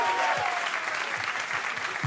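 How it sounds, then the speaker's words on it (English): Studio audience applause fills the clip, a steady wash of clapping at moderate volume with no talk over it. "Will you please give it a big round of applause to Alex Grodowski?"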